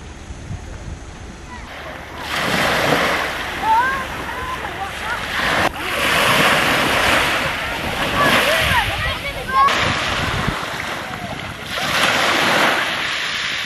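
Sea waves roll in at Aouchtam beach near Tetouan on the Moroccan coast, a loud broad wash of surf rising and falling in swells, with wind buffeting the microphone and a voice talking beneath.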